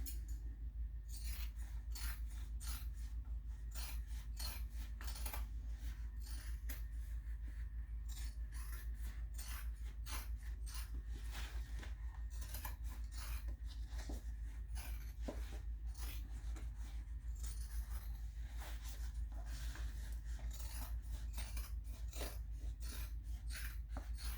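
Vinyl being trimmed for a messenger bag, heard as a long series of close, quiet rasping scissor cuts and rubbing strokes in an irregular rhythm, with no talking.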